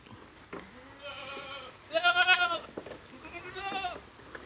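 Goats bleating on a goat farm, several loud, wavering calls in succession, one strong bleat in the middle, with other animals calling softly around it.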